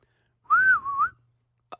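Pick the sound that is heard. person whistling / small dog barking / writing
person whistling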